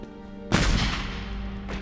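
A single sharp gunshot cracks out in a film scene, a loud sudden blast followed by a lingering reverberant decay, with a faint tonal score hum beneath.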